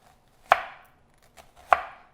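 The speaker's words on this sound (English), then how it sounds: "we're just gonna make incisions all throughout the entire shallot" Kitchen knife cutting thin incisions through a shallot on a cutting board, two sharp chops about a second apart with a faint tap between, close and isolated with no talking.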